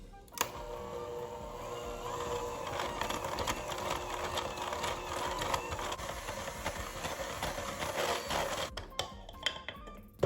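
A stand mixer creams pound cake batter made with brown butter and vanilla bean, giving a steady, continuous whir at close range for about eight seconds before cutting off abruptly.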